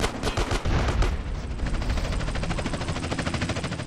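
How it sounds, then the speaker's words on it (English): Gunfire in a GTA San Andreas gang shootout: dense, rapid automatic shots in a fast, steady rhythm, loud and close, with heavier blasts at the start. "Just shoot everybody"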